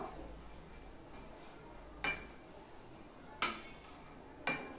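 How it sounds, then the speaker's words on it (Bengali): A ladle stirs melting gur in a pot while tel pithe are being made. Three brief, faint metallic clacks stand out at spaced intervals over a quiet background. "তো আমি এরকম একটা হাতা নিয়েছি, দেখুন এটা দিয়ে আমি একটু এভাবে নেড়ে চেড়ে দিব"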